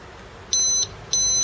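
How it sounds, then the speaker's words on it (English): A Triumph motorcycle alarm, a Datatool S3 unit, gives two short, loud, high-pitched electronic beeps about half a second apart as it arms, close and clear over faint background hiss. "2 beeps now indicates the alarm is armed."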